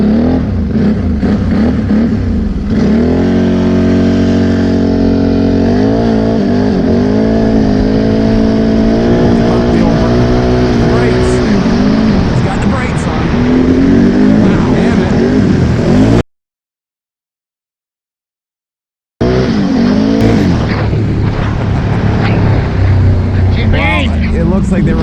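A vehicle on System 3 XM310 mud tires drifts with its engine revving loudly and continuously, pitch wavering with throttle, under talk, then a brief silent gap before the roar resumes.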